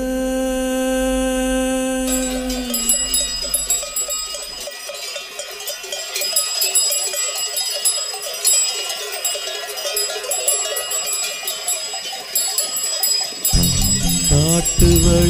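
Bulls' neck bells clank and jingle repeatedly over a musical backing, irregular and fairly loud throughout.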